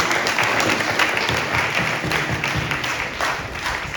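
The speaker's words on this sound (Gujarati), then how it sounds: "આપણે એમને તાળીઓથી વધાવીએ." A congregation at a feast-day and First Communion Mass in Bochasan claps for the boarding warden and students, a steady, fairly loud wash of many hands clapping throughout.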